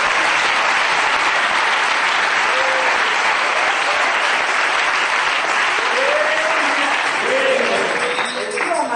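Crowd in a hall giving loud, sustained applause, a dense unbroken wash of clapping filling the whole stretch, with faint voices and cheers rising underneath.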